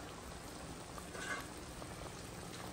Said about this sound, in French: Je le laisse cuire.